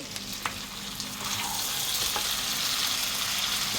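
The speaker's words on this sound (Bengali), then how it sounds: "এখনও মাংস কষানো হচ্ছে" Mutton stir-frying in oil in a pan makes a continuous close sizzle with a few clinks and scrapes of a spatula, growing slightly louder after the first second and carrying on steadily.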